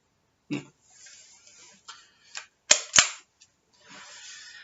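Weihrauch HW60J air rifle fired once, a sharp close crack with a second sharp report right after, set among quiet handling clicks and rustles.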